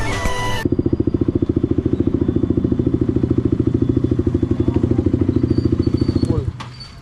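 A Kawasaki Z900 superbike engine idles with a rapid, steady, loud thumping pulse, close by, then cuts off near the end.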